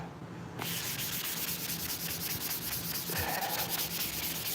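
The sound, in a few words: sanding trailer sway control parts to remove brake dust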